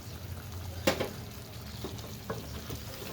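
Ground coriander, red chilli and cumin fry in a pan for chicken curry with a steady low sizzle, broken by a few scraping stirs of the spoon and no voices.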